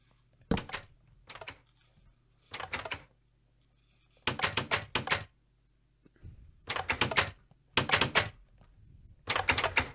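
Iron doors in Minecraft open and close repeatedly, giving several separate sharp clanking bursts with short silences between them, crisp and close with no speech.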